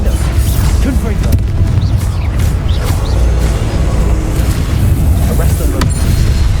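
A Confringo explosion spell goes off in a Harry Potter video game, a booming blast lost within dense, continuous loud game noise of rumbling and crackling, with voices in the mix.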